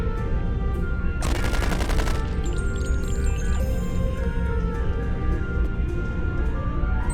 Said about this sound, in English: Have you ever wondered what would happen if you loaded 5 quantum torpedoes into one casing?